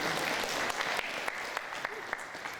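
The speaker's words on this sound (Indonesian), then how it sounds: "Boleh tepuk tangan untuk kita semua" Audience applause at a Quran camp evening gathering in a mosque, a dense, steady clapping crowd sustained throughout with scattered sharper claps.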